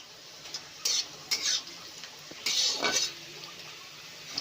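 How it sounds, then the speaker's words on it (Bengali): Bitter gourd frying in oil in a wok: a soft, steady sizzle broken by several loud, close bursts of scraping and stirring against the pan, with no voices. "উচ্ছেটা হালকা লাল লাল করে ভেজে নেব।"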